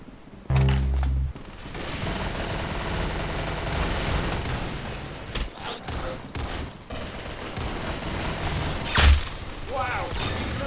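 Rapid bursts of video game gunfire crackle throughout, opening with a loud heavy blast and later a sharp boom, over a constant layer of game sound while voices talk and cheer.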